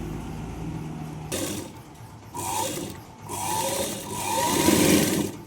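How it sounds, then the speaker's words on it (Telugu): A sewing machine stitching a lined blouse at three marked points runs in short bursts of mechanical whirring separated by brief pauses, close and fairly loud, with no talking. "ఇప్పుడైతే ఆ త్రీ పాయింట్స్ దగ్గర ఒక స్టిచ్చింగ్ వేస్తున్నాను"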